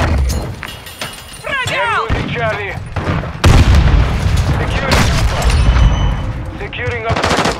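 A grenade explodes amid heavy automatic gunfire in Call of Duty: Modern Warfare 2 multiplayer, one sudden loud boom in the middle of continuous rattling shots, with radio voices speaking over the battle.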